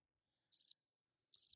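Two short bursts of cricket chirping used as a comedic silence gag, each a quick trilling pulse about a fifth of a second long, separated by a near-silent gap.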